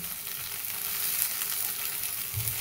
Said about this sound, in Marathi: थोडेसे डाग पडेपर्यंत त्याला भाजायचं, म्हणजे कसे नरम होते भेंडी,